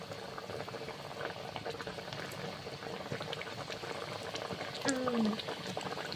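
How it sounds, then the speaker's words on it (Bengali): Mustard fish curry of pond bata and bhangan fish bubbles steadily in a pan, a continuous close simmering hiss with small pops, and a brief clink near the end. "ঝোলটা ফুটে উঠেছে"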